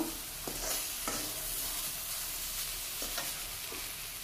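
Singhi fish frying in a pan with turmeric and salt, a steady close sizzle and crackle of hot oil that runs unbroken with faint stirring clinks.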